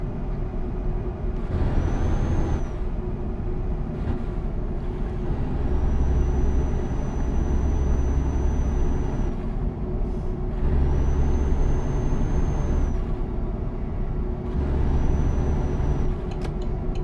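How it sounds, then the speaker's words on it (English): Truck air brakes in Euro Truck Simulator 2, on a 2021 MAN TGX, hiss in several bursts over a steady engine drone. Faint high tones come and go, and nobody speaks. "It gives you the air brake sounds too"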